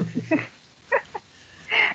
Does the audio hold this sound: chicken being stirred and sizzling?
no